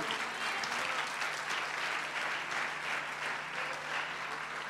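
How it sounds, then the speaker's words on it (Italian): A church congregation at a water-baptism service applauds, a full wash of many hands clapping steadily and loudly throughout, with no voices over it. "Facciamogli un applauso."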